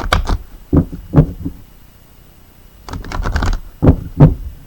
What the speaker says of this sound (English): So let's go ahead and shuffle up these oracle cards.